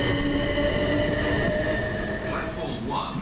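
A South Western Railway train pulls away from a station on the Portsmouth Harbour to London Waterloo line. Steady rumbling and rolling noise are heard close by, with a high whine and brief wheel squeals near the end.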